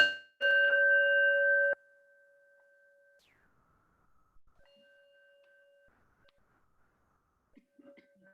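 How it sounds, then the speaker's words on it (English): A meditation bell rings once at the close of a guided meditation, a clear sustained metallic tone that cuts off abruptly after about a second, followed by near silence with faint room noises. "And I'll end this meditation with ringing the bell."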